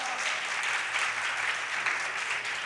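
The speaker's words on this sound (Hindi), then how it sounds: "अब बजा रहा है तालियां" Audience applause at a spiritual discourse by a Jain monk, a steady dense clapping from a crowd heard alone throughout.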